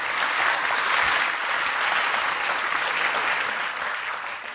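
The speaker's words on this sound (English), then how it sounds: "a round of applause to all of you for making this our best and biggest conference ever" A large conference audience claps steadily, a dense sustained round of applause that tapers slightly at the end.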